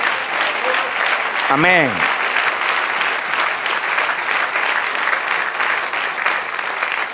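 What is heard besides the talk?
church congregation applauding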